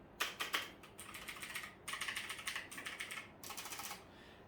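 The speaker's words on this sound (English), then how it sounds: "it is a mechanical keyboard with blue optical switches" Typing on a Havit Magic Eagle mechanical keyboard with blue optical switches, close and fairly quiet, with bursts of rapid clicky keystrokes separated by short pauses.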